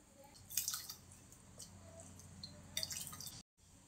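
Hot lentil sambar, made without vegetables, poured into a bowl, giving a few soft wet splashes and drips in two short bursts, quiet and close, with no talking.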